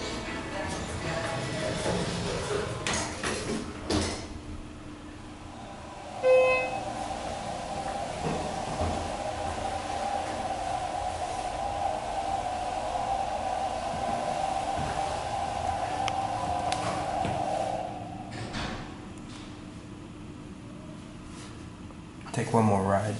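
A Schindler 330A hydraulic elevator at Nordstrom in Christiana Mall, Newark, Delaware, runs with a steady, moderately loud motor hum for about twelve seconds. A short chime sounds as the ride starts, and the hum drops away near the end.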